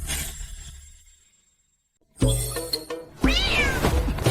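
A cat meows loudly and close in a dramatic scene, a drawn-out call fading out, then after a brief silence two more sharp, strained meows, the last one rising and wavering.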